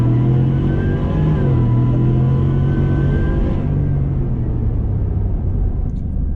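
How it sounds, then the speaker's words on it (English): A 650hp Roush F150 pickup in all-wheel drive launches hard on a 0-60 run. The engine roars loud and close, pitch rising through the shifts, then the sound drops away near the end. "Let's go ahead and see how she launches."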